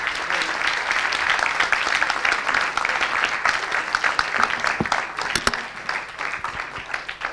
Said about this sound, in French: Donc ces applaudissements sincères étaient très certainement pour nos 3 intervenants.